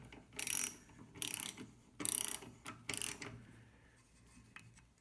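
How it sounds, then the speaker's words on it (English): A 1/4 inch drive ratchet snugs down the primary jets of a Street Demon carburetor, producing four short bursts of rapid clicking about a second apart, close and crisp, then falling quiet with no speech. "A little 1/4" drive ratchet, we'll just snug them down."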